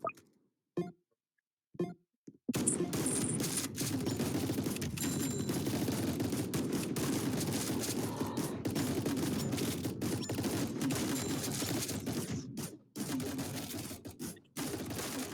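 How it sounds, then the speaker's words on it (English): Sniper towers firing in the Tower Defense Simulator video game, a dense continuous burst of rapid gunfire that runs for about ten seconds after a few isolated shots, then breaks off into sparse hits. "The snipers are gonna finish it off."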